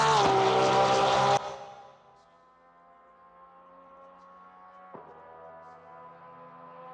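A Porsche 992 GT3 R race car engine at Suzuka, heard as a loud high-revving roar that cuts off abruptly, then settles into a quieter steady drone with a brief blip midway.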